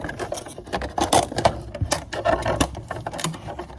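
A tough plastic water bottle is cut across with scissors or a blade, giving close, dense crunching and snipping noises in an uneven rapid rhythm with no pauses.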